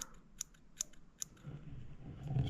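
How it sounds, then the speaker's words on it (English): Sharp scissors trimming fly-tying material on an egg-head streamer fly, three or four crisp close snips in the first second and a bit, followed by soft handling noise. "I just trimmed a desired length"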